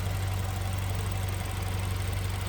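A 2014 BMW 320i's 2.0-liter inline four-cylinder turbo engine idles steadily up close, with a low, even hum and fast, regular pulsing throughout.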